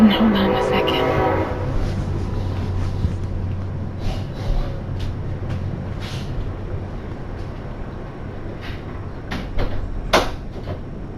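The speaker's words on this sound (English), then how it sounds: "Yeah, the train was loud because the door blew open because of the storm." A passing train rumbles heard through a door blown open by a storm, louder at first and then fading to a low steady roar, with scattered clicks and knocks throughout.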